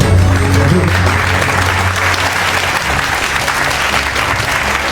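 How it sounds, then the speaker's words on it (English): Sustained audience applause fills a banquet hall at an Indian Hall of Fame awards dinner in Singapore, steady and dense for the full stretch, with a low hum of voices and a sustained tone underneath. "Big round of applause for Mr. AMEERALI."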